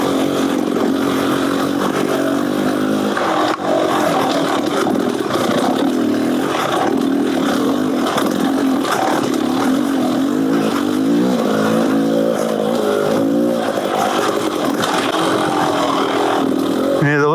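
A 2022 Xtrainer two-stroke dirt bike fitted with a Gnarly exhaust and JD jet kit revs steadily on a track, its engine note rising and falling continuously for the whole stretch while a rider talks over it.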